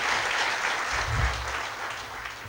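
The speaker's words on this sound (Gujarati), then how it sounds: "એવા પિયુષભાઈને મારા વતી જોરદાર તાળીથી બધા" An audience claps loudly and steadily, a dense wash of many hands applauding together throughout.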